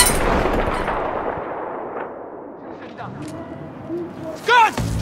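Gunfire and explosions from the video game Battlefield 3, a loud burst at the start fading into distant battle noise, with shouting voices over it.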